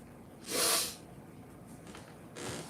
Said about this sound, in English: the sniffling is killing me